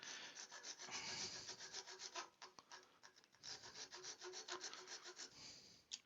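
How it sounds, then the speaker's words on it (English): A bare hacksaw blade with a small wooden handle fixed to one end cuts through wood in quick, even back-and-forth rasping strokes. The sound is faint but close and carries no talk. "we'll cut that off the rest of the way with my trusty hacksaw blade"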